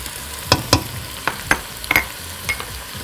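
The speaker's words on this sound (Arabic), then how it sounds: "هنزل الثوم المفروم،" Minced garlic fries with vegetables in a pot over high heat, a low steady sizzle punctuated by about eight sharp spoon knocks and scrapes against the pot, close and clear with no talking.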